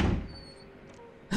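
A door slams shut in the horror game Outlast, a loud thud at the very start that decays into low rumbling room tone, followed by another heavy knock at the end.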